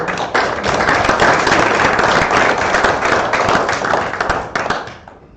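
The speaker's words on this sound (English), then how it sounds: "So a big round of applause for all these people." An audience applauds at a live-streamed event, a dense, loud burst of many hands clapping that holds steady for several seconds before quickly dying away.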